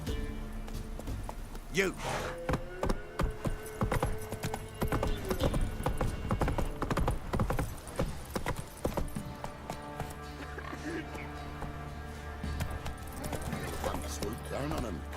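Roach the horse clip-clops at a gallop through a Witcher video game scene, hooves pounding steadily under game music and effects, with a brief snort or whinny and a character's shouted voice over the top.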